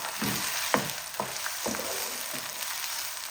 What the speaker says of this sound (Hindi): इसको भी ना 1 मिनट फ्राई कर लेंगे साथ ही चिकन के।